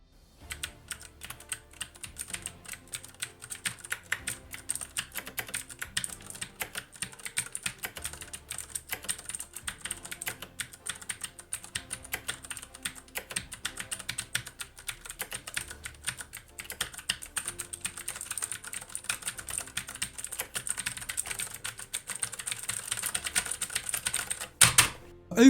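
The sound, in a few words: typing and button mashing on Fnatic Rush G1 keyboard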